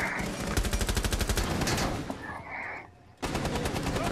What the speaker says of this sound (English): A lot of shooting going on.